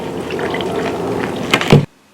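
Water gurgles and splashes steadily as it drains from a bucket of partly frozen ice, then swells into a brief louder gush before cutting off abruptly to silence.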